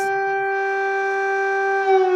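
A steady air raid siren wails over Kyiv, its sustained harmonic tone holding loud and continuous throughout, with a slight swell near the end.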